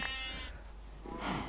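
A short bleat from a sheep in a modded Minecraft world, two brief calls separated by a gap, fairly clear and alone with no talk over it.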